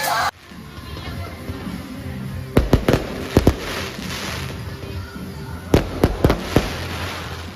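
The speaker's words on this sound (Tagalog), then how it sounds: "Natuwa ang lahat sa fireworks display." Fireworks display at the Christmas Village of Baguio Country Club, with crowd murmur throughout and sharp bangs going off in two clusters, several close bursts each, moderately near and loud.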